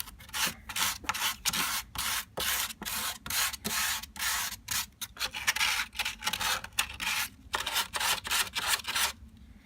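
Sandpaper of 220 grit rubs in quick, rhythmic back-and-forth strokes across the wooden back of a 1950s Kay K-6970 Swingmaster guitar, each stroke a close, crisp scratch with brief gaps between.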